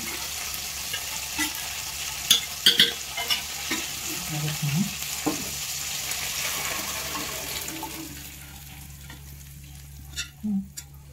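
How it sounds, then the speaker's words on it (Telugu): Cooked dal is tipped into a hot tempering of cumin and curry leaves and stirred, giving a soft sizzle with wet scraping and a few sharp utensil clinks, quieter toward the end. "ఇప్పుడు మనం పప్పు అంతా ఇందులో వేసుకోవాలన్నమాట ఓకేనా."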